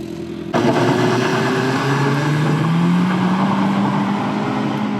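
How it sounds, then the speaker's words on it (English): A BMW M3 driven hard on a mountain road starts abruptly and then rises in pitch through a long acceleration, the engine note loud and close, climbing steadily before easing slightly at the end. "Luis now wants to drive a bit rally style."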